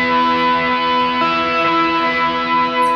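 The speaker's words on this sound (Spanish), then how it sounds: "Luego en los versos yo le agrego un overtone y un reverb bastante potente." A Stratocaster electric guitar rings out with sustained chords, an overtone effect and heavy, powerful reverb, notes smearing into a dense wash that holds steady for the whole three seconds with no voices over it.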